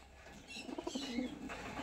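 A Lal Bai pigeon pair, hen in front and cock behind, gives soft low cooing in short repeated phrases, fairly close, with faint chirps and no talk.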